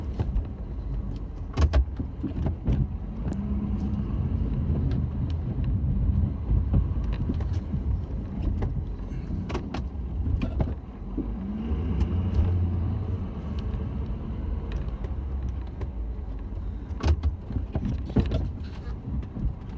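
A pickup truck fitted with a snow plow works a driveway in winter, its engine giving a steady close rumble for the whole stretch, with intermittent scraping and clunks of the blade.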